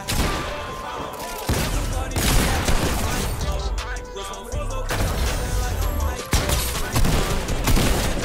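Video game gunfire crackles in dense bursts over a loud, busy game soundscape, with booms and rapid shots layered throughout and voices faintly present.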